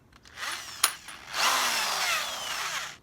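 A power drill capable of boring steel and concrete runs up in bursts, a whining motor that speeds up, briefly clicks, then holds a loud steady high-pitched whir nearby.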